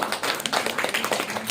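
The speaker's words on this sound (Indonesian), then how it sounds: "Tepuk tangan dong ya." An audience at a health talk claps in a brief burst of dense, uneven applause.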